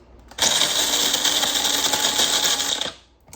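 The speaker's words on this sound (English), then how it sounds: "I'm going to go ahead and run it for the first round" Electric coffee grinder grinding coarse beans for cold brew, one loud continuous whirring burst of about two and a half seconds that starts abruptly and winds down at the end.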